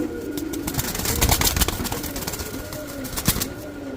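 Pigeons at a bird sale stall, including an imported Pakistani Danish pigeon, coo in deep throaty rolls over a busy backdrop of wing flutters and scattered sharp clicks, close and fairly loud.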